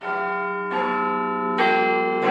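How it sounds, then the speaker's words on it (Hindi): Big Ben, the great tower bell in London, strikes three times in slow succession, each clear ringing tone overlapping the fading hum of the last, loud and alone. "लंदन के मशहूर जमाना बिग बैंग टावर के ऊपर एक घंटी बजेगी।"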